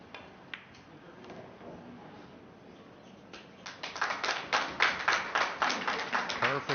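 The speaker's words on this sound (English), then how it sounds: "The crowd is clapping because they know what's coming" An audience at a 9-ball pool match begins clapping together in a slow, rhythmic beat. It starts faint and scattered and then grows into loud, evenly spaced claps.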